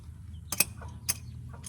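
Wrench clicks and metallic ratcheting while removing the caliper bracket from a 2003-2006 Mazda 6 rear brake, two short sharp bursts close by, with a faint low hum underneath.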